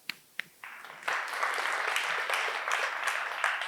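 A conference audience breaks into applause after a couple of isolated claps, building to a dense, steady clapping that carries on to the end at moderate loudness.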